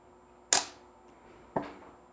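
A Minolta SR-T film camera set to bulb mode fires two sharp mechanical clacks about a second apart, the mirror flipping up and the shutter opening, then closing, each snap crisp and close with a brief decay, in quiet surroundings.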